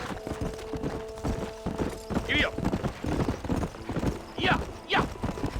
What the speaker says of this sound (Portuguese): O cavalo está alucinado.